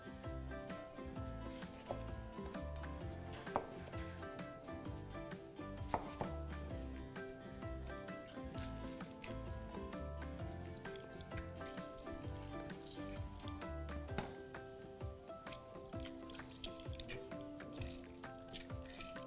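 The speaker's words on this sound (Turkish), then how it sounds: "Limonları ortadan ikiye keserek suyunu karışımın içerisine sıkıyorum" Lemons being cut in half with a knife and their juice squeezed into a lemonade mixture, with scattered chopping taps and wet squishes set against steady background music.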